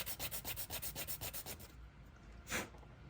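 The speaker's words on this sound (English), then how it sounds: "start sanding back and forth" A very firm sanding stick rubs back and forth across a light bar in quick, even strokes, about a dozen rasping passes close up, then a pause and one last stroke.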